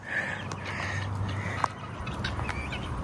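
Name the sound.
birds cawing, likely crows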